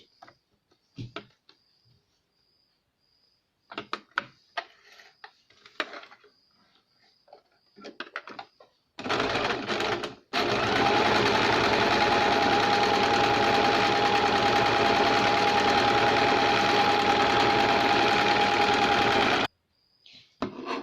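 A sewing machine stitches the lining of a baby cap in one long steady run of about ten seconds, preceded by short stop-start bursts and handling clicks, with no talking.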